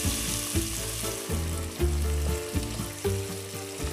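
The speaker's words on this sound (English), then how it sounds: "to the olive oil, I'm going to add a chopped onion" Chopped onion frying in about three tablespoons of olive oil, a soft steady sizzle under a prominent tonal hum with recurring low thumps, no one speaking.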